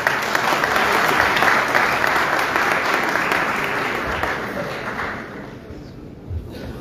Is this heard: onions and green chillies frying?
no